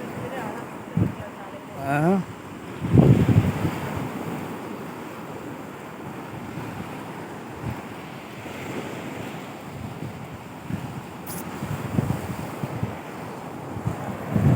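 Surf washes onto a beach in southern Tamil Nadu, a steady roar of breaking waves with gusts of wind buffeting the microphone, while people speak intermittently over it.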